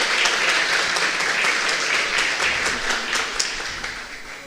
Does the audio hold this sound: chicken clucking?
no